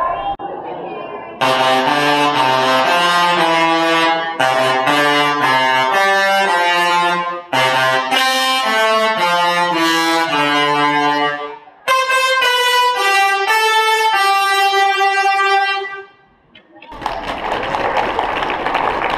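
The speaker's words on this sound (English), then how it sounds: "every time a different charge goes in, a different pitch sound of different duration comes out" Buzzing electric arcs from a lightning machine at a live show sing a melody of distinct pitched notes, loud and harsh, with short pauses between phrases and crowd noise at the end.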